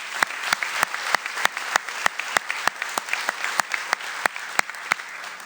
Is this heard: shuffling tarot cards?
no